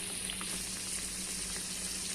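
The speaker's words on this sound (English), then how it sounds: "When it got cooled, so I have started frying it." Steady sizzling of cabbage vadis frying in oil in a pan over medium flame, a continuous crackling hiss at moderate volume with no voices.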